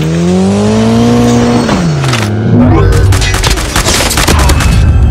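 Video game combat with an attacking car: rapid gunfire volleys and loud booms crowd together over a revving engine whose pitch slides down, with dense, loud action throughout.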